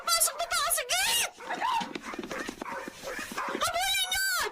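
Dogs barking and whimpering at an intruder who has slipped in through a gate, a lively mix of yaps and whines in a drama scene, heard close and continuous under and between excited speech.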